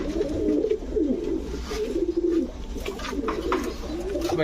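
Several pigeons of fancy breeds such as Budapest, Saharanpuri, racer and Giribaz, including red-throated males and females, coo steadily and close together in overlapping low, throaty calls over faint background noise.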